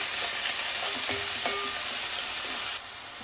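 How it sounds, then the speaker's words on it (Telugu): Chopped chilies and onions fry in hot oil while being stirred: a steady close sizzle with scraping and clicking stirring strokes, which cuts off abruptly near the end. "దీంట్లో మనం కట్ చేసి పెట్టుకున్న మిర్చి ఆనియన్స్ యాడ్ చేసుకుందాం ఇప్పుడు ఒకసారి మిక్స్ చేసుకుందాం"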